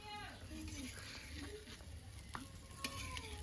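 A naivedya offering fries in hot oil on a griddle, a quiet steady sizzle with faint crackles and a few sharper pops, while a voice speaks softly in the background.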